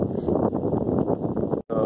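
Wind buffeting a microphone outdoors on a boat in bad weather at Bahía San Marte, a loud, continuous low rumble with gusty swells, briefly cut off near the end.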